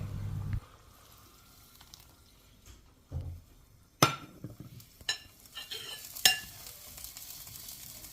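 Chickpeas are stirred into a yogurt spice mixture in a pan, with soft scraping and a few sharp spoon clinks against the metal over a quiet background.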